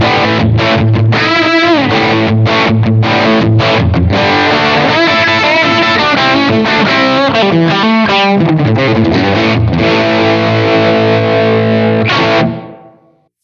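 A distorted electric guitar plays through a Blackstar AMPED 1 in an EL34 crunch setting with high gain, pushed mids, cranked master and cabinet 1, strumming loud chords and riffs continuously before letting the last chord ring out and fade.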